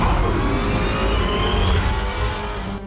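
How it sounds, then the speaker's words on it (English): A Dodge Challenger's American V8 roars loudly and steadily for about three seconds, a dense, throaty rumble that holds near and strong before cutting off abruptly at the end. "the sound of an American V8."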